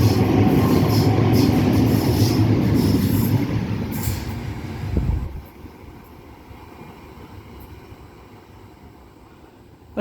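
A passenger train rumbles loudly past a platform at Cheltenham station, Sydney, at close range with a steady roar and brief metallic squeals, then fades to a quieter hum as it moves away.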